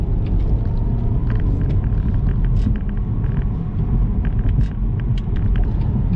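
BMW X2 accelerating onto the I-35 highway, heard from inside the cabin as a steady, loud low rumble of engine and road noise with no pauses.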